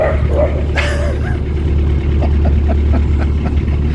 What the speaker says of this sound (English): some dogs just scaring ducks there